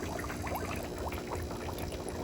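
Worm casting tea with molasses bubbling in a container, a steady close fizz of aerated liquid with continuous small bubbling pops and no voices.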